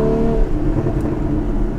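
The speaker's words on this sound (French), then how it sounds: "On entend que ça glougloute derrière et c'est pas du pop and bang artificiel." A Porsche Cayman GTS 981 flat-six engine burbles and rumbles steadily off throttle, close and continuous with a low gurgling texture from the exhaust.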